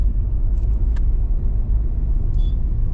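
Steady low road rumble and engine drone heard from inside a car driving toward Delhi, constant and close, with a few faint light clicks over the hum and no talking.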